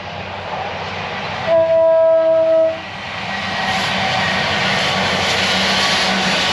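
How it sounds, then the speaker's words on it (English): Train rumbling past a muddy field in the countryside, a broad roar that builds and holds steady as it passes, with a brief horn-like tone sounding early on. "Every time we try and film up this bastard field, a train goes past."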